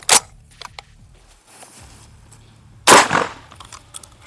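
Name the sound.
shotgun firing a 3T red cartridge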